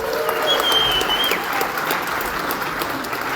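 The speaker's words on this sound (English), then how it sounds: "A big round of applause for them." Brief, lively applause from a crowd at an avalanche-awareness event in Idaho Falls, steady clapping with a whistle rising briefly above it early on.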